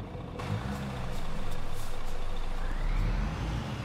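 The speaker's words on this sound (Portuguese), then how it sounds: "Olha o tamanho daquele bitrem passando lá" A long B-train truck passing in Euro Truck Simulator 2, a low rumbling engine drone that swells and fades nearby over a steady idling bus engine, with a brief air hiss.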